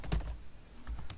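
Someone types code on a computer keyboard in two quick clusters of close, soft key clicks with a brief pause between them.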